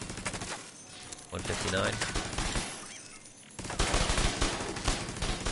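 Automated turret firing rapid bursts at an enemy in The Division 2 video game, dense crackling gunfire in fast repeated volleys with short pauses between them, with someone speaking briefly over it.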